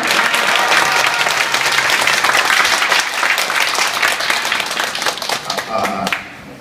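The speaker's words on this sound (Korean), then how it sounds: "이동규 교수님을 큰 박수로 맞아주시기 바랍니다" Loud, dense audience applause welcomes a professor and entertainment TV producer taking the stage at a 2014 Incheon viewer media fair talk concert, sustained for about six seconds before tapering slightly at the end.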